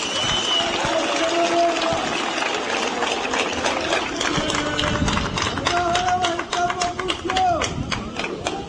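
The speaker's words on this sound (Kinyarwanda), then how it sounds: "Nagira ngo mubampere amashyi tubashimire." A large political rally crowd bursts into sustained applause after an election victory, dense rapid clapping mixed with cheering and a few tonal calls, filling the space near and far.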